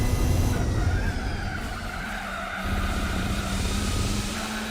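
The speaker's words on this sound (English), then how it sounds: "it does sound a bit like a rally car. I think it's the turbo." A loud turbocharged car engine in the video game Gran Turismo 4 roars steadily with a buzzy, sustained drone and rising pitch, like a racing car at speed, with tire noise underneath.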